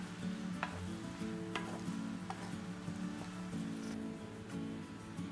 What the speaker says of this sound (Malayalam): ഈ പൈനാപ്പിളിലെ വെള്ളവും പഞ്ചസാര അരിഞ്ഞ വെള്ളമൊക്കെ കൂടി ചേർന്ന് നന്നായിട്ട് തിളച്ച് വന്നിട്ടുണ്ട്.